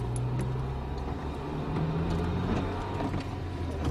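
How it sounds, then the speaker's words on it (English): A 2001-2005 Honda Civic with a failing transmission bearing, heard from inside the moving car as a steady low grinding drone that slightly dips in pitch, continuous throughout. "Hear that grinding sound that dips a little bit?"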